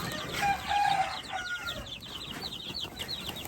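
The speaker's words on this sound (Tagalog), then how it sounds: "Tapos may bago tayong sisiw. Ayan, may bagong sisiw." Chickens and newly hatched chicks move about a coop, with faint high peeping and soft clucks and a short burst of wing flapping near the start, all fairly quiet and without talk.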